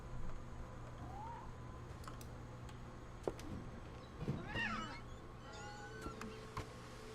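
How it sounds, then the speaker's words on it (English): A cat meows in the game What Remains of Edith Finch, a few short rising cries over a steady low ambient hum, with faint clicks and creaks around them. "I heard a cat."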